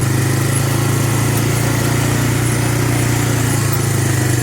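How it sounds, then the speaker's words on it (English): A Honda Big Red utility vehicle's engine labors steadily while hauling a log trailer, giving a loud, continuous drone that stays even throughout with no talk. "I can feel the engines laboring a little bit with that"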